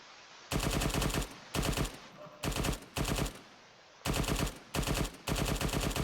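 A DShK heavy machine gun in the Arma 3 video game fires five sustained bursts of rapid, dense automatic fire, separated by brief pauses, loud and close.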